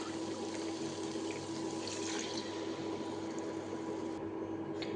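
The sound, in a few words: water being poured into a cooking pot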